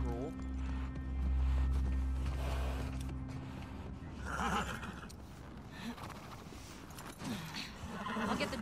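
Horses in The Last of Us Part II give a whinny and some hoof clatter, moderately near, under game music, ambience and people talking.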